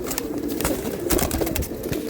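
A silver Giribaz pigeon with red eyes coos repeatedly at close range, a steady run of soft low throaty calls over a little background murmur.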